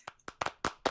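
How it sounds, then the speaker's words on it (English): Handclaps from a panel audience at a tech conference event, about five distinct claps in quick succession, near and fairly quiet, with no voices. "a round of applause for you,"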